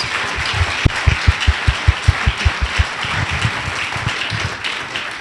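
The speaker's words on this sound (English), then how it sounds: "Let's give a round of applause one last time to our scholarship winners and their benefactors" A crowd applauds scholarship winners at an awards event, with a run of loud, evenly spaced claps up front over a dense wash of clapping from many hands.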